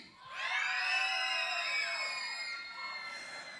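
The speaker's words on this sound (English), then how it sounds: "On the count of 3, yell as loud as you can." A cruise ship audience of kids and teens yells as loud as they can at a welcome aboard show, a sustained, loud mass of shrieks and whoops that swells and slowly fades.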